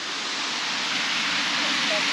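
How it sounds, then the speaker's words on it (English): Steady broadband rush of a waterfall on the Fiery Gizzard Trail, a constant wash of falling water close by with no pauses, filling the whole short stretch. "Waterfall number 3."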